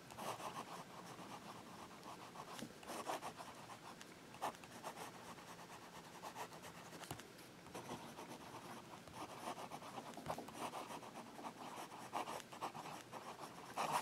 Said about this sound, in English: So we'll do some fast writing.